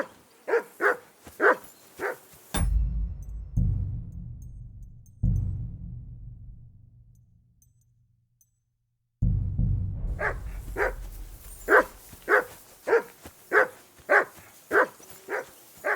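A dog barks in Kingdom Come: Deliverance 2 with quick, sharp repeated barks at the start and a longer run at the end, separated by a low rumbling stretch and near silence.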